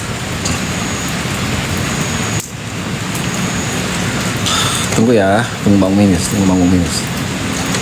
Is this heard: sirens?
no